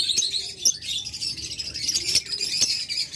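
A breeding pair of pet birds chirps in short, sharp bursts, the tweets repeating every half second or so against a quiet background.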